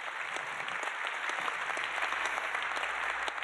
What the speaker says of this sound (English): Can we get another round of applause for all of these people?